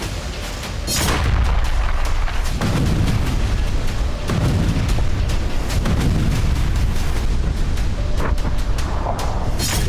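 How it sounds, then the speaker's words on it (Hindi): Explosions from airstrike bombing near the city of Hama, Syria, heard as a loud, continuous rumbling barrage with repeated heavy booms and crackling bursts and no speech. "शहर के पास जबरदस्त विस्फोट की ये तस्वीरें भी हामा शहर की हैं"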